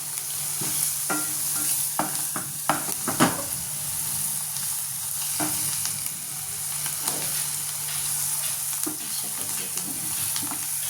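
Matar bhaji with spices sizzles in a pan, a constant close fry hiss broken by several sharp scraping stirs of a spoon in the first few seconds and occasional ones later.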